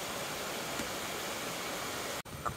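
A small waterfall near a park in Shimane, Japan, pours in a steady, close broadband rush that holds evenly throughout, broken only by a brief dropout just before the end.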